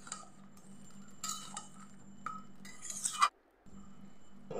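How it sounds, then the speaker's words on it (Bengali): A spoon stirs potato and soybean curry with spices and a splash of water in a pan on a gas stove, giving scattered close clinks and scrapes against the metal and a faint steady hum behind. "আমি এগুলো ভালো করে মিশিয়ে নিচ্ছি।"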